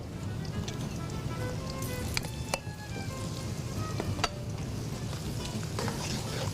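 Chopped onions fry with mixed garam masala in a pan on a Murgh Sajji Tikka cooking show, giving a steady crackling sizzle with scattered pops and stirring sounds close by.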